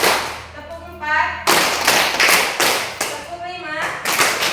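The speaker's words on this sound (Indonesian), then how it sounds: "Tepuk 1, tepuk 2, tepuk 3," A school classroom claps a counted rhythm in unison, sharp bursts of many hands grouped into short sets with pauses between, loud and close, while a teacher's voice calls the count over them.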